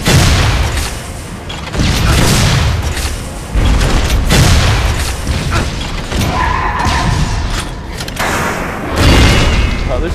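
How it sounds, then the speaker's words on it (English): Rocket launcher firing in the 2013 Shadow Warrior game, with heavy booms and crashing explosions repeating through a loud, dense battle, mixed with other combat noise. "this rocket launcher is a great anti-boss weapon"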